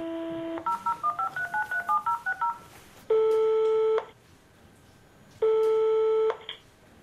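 A landline telephone plays a rapid run of dialing tones, then two long, steady tone bursts separated by a pause, all clear and close with no voices.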